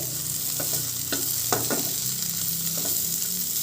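Bitter gourd slices sizzle in hot oil as a spatula turns them, steady frying hiss broken by a few distinct scraping stirs near the middle, close and clear with no talking.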